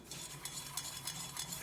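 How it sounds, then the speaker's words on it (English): A whisk scraping and stirring a butter and flour roux in a pan, a steady close rhythmic swishing with faint sizzle, no voices. "So we're gonna whisk that until we get no more lumps"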